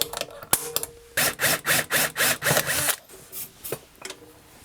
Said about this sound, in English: we'll just drill a new hole for the back one here